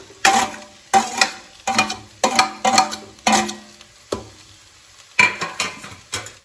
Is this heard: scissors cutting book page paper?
no